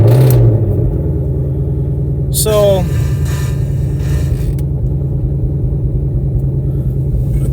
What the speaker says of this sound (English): now we're going to go ahead and fire this car up and go for a little drive